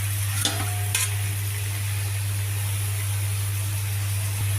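Flatbread cooks in an oiled pan, giving a steady soft sizzle with a low hum underneath and a couple of brief scraping clatters near the start.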